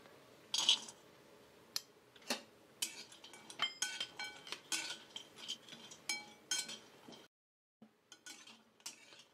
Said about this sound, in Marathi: आता आपण खोबरं भाजून घेऊयात.